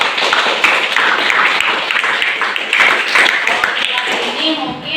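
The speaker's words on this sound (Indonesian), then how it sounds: "Oke, boleh tepuk tangan buat Salsa." Eighth-grade classmates applaud a student in a social studies lesson, a lively burst of many hands clapping at close range that continues for several seconds before tapering, with some voices mixed in.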